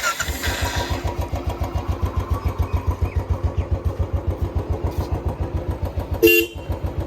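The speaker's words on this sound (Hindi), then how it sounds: "डबल हॉर्न की आवाज़ है।" A Jawa Perak or Royal Enfield Bullet motorcycle engine idles with a rapid thumping pulse, then a loud two-tone double horn blares briefly near the end.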